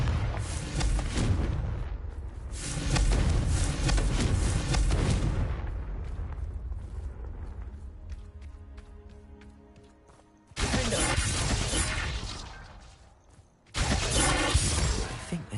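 Loud, roaring blasts from Confringo fire spells in Hogwarts Legacy, with long rumbling explosions and debris crashing, a quieter gap with faint clinking, then two more heavy bursts in succession.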